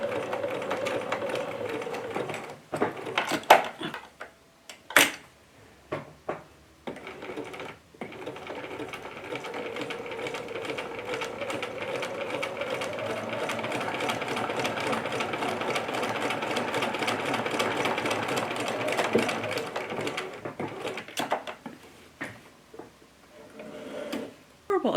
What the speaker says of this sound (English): I really want it to be stitched a couple of times.